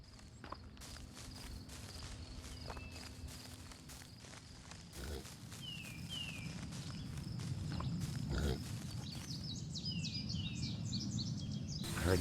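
A pig snorts and grunts among footsteps and scattered bird chirps in the survival game Journey of Life, the animal sounds fairly close over a constant outdoor ambience.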